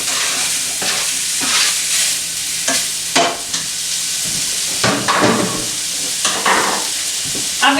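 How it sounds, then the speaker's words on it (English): Kielbasa sausage frying in a pan over medium-high heat, a steady close sizzle with intermittent scraping stir strokes from a utensil throughout. "I'll cook that over about medium-high to get the sausage started."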